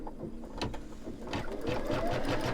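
Embroidery sewing machine stitching down a piece of a snowman mug rug, a close, rapid mechanical rattle of needle strokes that grows steadily louder.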